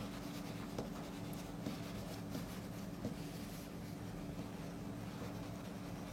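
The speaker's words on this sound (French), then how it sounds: "Alors moi je gomme juste un peu pour qu'on voit un peu ce que ça donne." A pencil eraser rubs on paper while greeting cards are drawn with Faber-Castell supplies at a drawing workshop, making soft, faint scrubbing strokes in short bursts over a constant hum.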